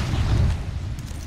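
A grenade explosion in Apex Legends rumbles as a deep, sustained boom with a heavy low-end roar that slowly fades over about a second.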